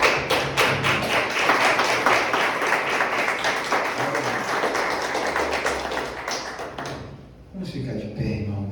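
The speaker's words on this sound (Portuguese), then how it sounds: "Vamos aplaudir a palavra do Senhor?" A church congregation claps in a dense, steady burst of applause that fills most of the stretch, then dies away as a voice and room sounds take over near the end.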